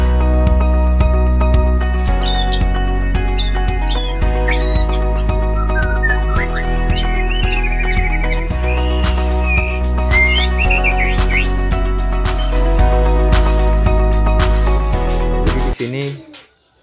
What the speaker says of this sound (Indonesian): murai batu ini